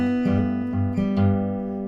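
Acoustic guitar plays the opening melody measure of a song, clear sustained notes plucked over a steady low bass string, solo and close.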